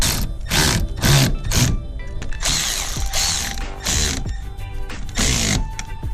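A Milwaukee M12 Fuel Red Lithium 2.0 cordless ratchet wrench runs in loud, close bursts, its whirring ratchet starting and stopping repeatedly over several seconds with mechanical clicking between runs.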